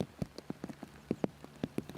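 Rain on a disc golf course during a tournament round, heard as a scatter of separate drops and taps striking nearby surfaces at an uneven pace, fairly close and moderately quiet, with no talk.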